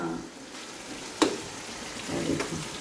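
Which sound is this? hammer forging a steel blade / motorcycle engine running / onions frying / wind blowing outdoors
onions frying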